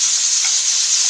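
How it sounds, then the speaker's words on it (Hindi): Chopped tomatoes fry in a spoonful of oil in a pan, giving a steady, loud, bright sizzle with a hiss that holds even throughout, with no voices. "इसको भी हम 1 मिनट फ्राई करेंगे"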